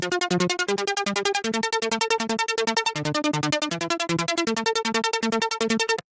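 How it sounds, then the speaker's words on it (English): A fast, bright synth arpeggio ripples continuously over a bouncing low bass pattern, dense and loud with no voices. "there's this cool ARP sample that goes like this."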